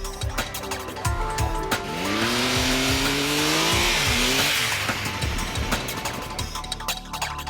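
Triumph Tiger Explorer motorcycle ridden hard with traction control switched off, engine note rising and falling through gear changes with a loud sustained revving sweep in the middle, up close over heavy wind roar.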